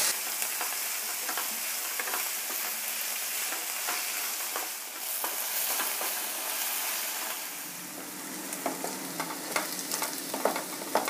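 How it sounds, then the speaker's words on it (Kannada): Fenugreek leaves and onions sauté in a hot oil tempering with a continuous close sizzle and hiss. Repeated spatula scrapes and stirs grow busier toward the end, and no one speaks. "ಒಗ್ಗರಣೆನಲ್ಲೇ ಸೊಪ್ಪು ಈರುಳ್ಳಿ ಎಲ್ಲನೂ ಬಾಡಿಸ್ಬೇಕೀಗ."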